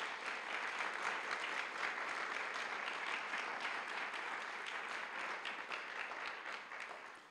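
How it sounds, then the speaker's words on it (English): Sustained applause from a large audience at a college's 150th anniversary celebration, a dense continuous roar of many clapping hands that holds steady and fades slightly at the end, with no talk over it. "Please give them another round of applause."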